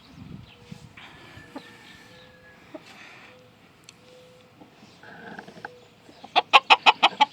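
A crele barred rooster makes soft, low clucks amid faint farmyard ambience, ending in a sharp run of six loud, rapid, evenly spaced calls close by.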